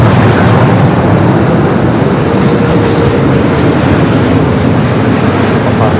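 Delta jet taking off from a runway at LAX, a loud, steady broadband engine roar filling the whole stretch, with no voice.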